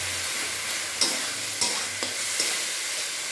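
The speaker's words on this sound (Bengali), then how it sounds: "এই যে মশলাটা কষাচ্ছি" Spice paste frying in oil for chicken curry, a loud continuous sizzle with a few sharp scrapes of a stirring spoon against the pan.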